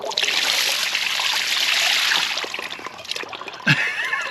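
Oil and water, mostly water, pour out of a Ford flathead V8 engine pulled from a scrap pile, making a steady close splashing trickle that thins and gurgles toward the end.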